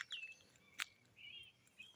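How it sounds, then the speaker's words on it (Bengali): Birds chirp and tweet along a road in Scotland in the early morning, a few high, thin calls at moderate distance with a brief sharper note partway through, over a quiet, faintly hissing background. "ফ্রেশ বাতাস, ফ্রেশ ওয়েদার, পাখির ডাক শোনা যাইতেছে।"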